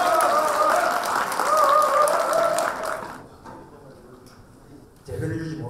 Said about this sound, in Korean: 문재인 의원님을 힘찬 박수로 맞아주시기 바랍니다.